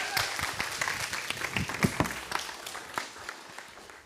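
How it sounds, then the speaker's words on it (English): Audience applause at a Pride PechaKucha Night, a steady wash of many hands clapping at close range, holding for about four seconds and tapering slightly toward the end. "Well, I think we could give an applause"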